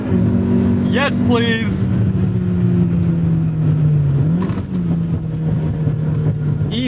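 A 1998 Honda Civic Type R EK9 engine revs high toward its 8,400 RPM redline, a loud, sustained buzzing drone heard from inside the car with a shift in between. Someone speaks over it briefly.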